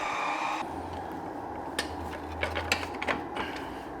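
An Ooni Halo Pro mixer kneads a big batch of pizza dough with a low, steady mechanical hum and grinding drone. Scattered clicks and knocks sit over it as the dough turns, heard close up.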